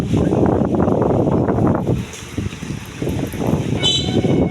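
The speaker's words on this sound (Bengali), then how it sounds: "বাতাসে কিন্তু পুরো ঝমঝম করতে এসে গাছপালা চারপাশটা কিন্তু থমথমে অবস্থা" Strong gusty wind ahead of a storm roars through village trees, buffeting the microphone in loud low rumbles that dip briefly midway before surging back.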